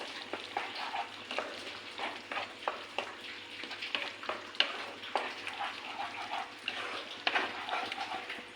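Spice masala and paste for restaurant-style matar paneer fry in a pan while being stirred, a low sizzle punctuated by repeated close scrapes and taps of a spoon.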